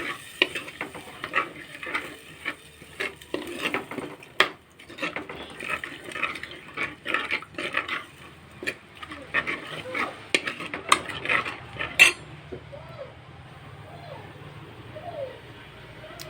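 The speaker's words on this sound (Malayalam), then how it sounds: "ഇനി നമുക്ക് എടുത്ത് വെച്ചിരിക്കുന്ന പുളി ആ വെള്ളത്തോട് കൂടി ഇതിലേക്ക് ഒഴിച്ച് കൊടുക്കുക" Sardine masala stirred in a pan after tamarind water is poured in, a Palakkad-style dish, with steady scraping and clattering strokes over a soft sizzle, close by, easing to quiet simmering near the end.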